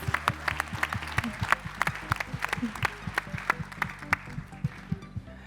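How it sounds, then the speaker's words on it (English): A round of applause at a pitch competition finals for the winners: steady, close, moderately loud clapping from an audience, with individual claps standing out in a fairly even rhythm throughout. "Huge round of applause for them, please."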